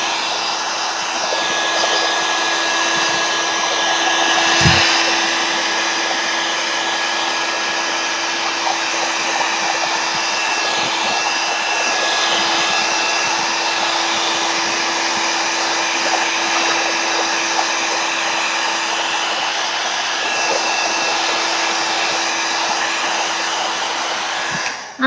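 A hair dryer blows steadily on a watercolor wash, a continuous close, loud whooshing motor hum with a faint whine that holds unchanged for the whole stretch and stops sharply at the end.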